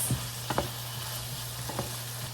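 Shrimps fry in a pan with a constant close sizzle and a low hum, while a utensil scrapes and taps the pan as they are stirred, with a few short clinks near the start and middle.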